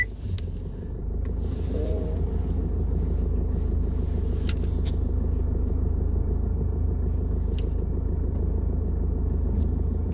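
A car idles in a low, steady rumble as it is being parked, with faint scattered clicks and knocks over the continuous engine drone.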